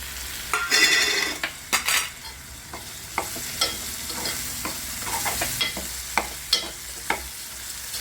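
Green chilies frying with spices in a pan, heard as a steady close sizzle broken by repeated scraping stirs and a few sharper clinks, with no voices.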